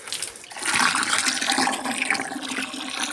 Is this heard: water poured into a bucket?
yes